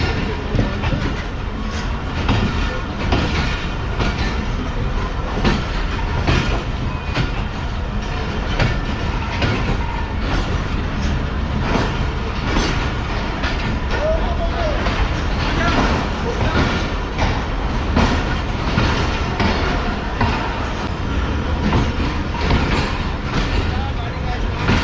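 Passenger train rolling slowly along a loop platform line on a journey out of Karachi, a steady, loud rumble of wheels with rhythmic clickety-clack throughout, people talking faintly underneath.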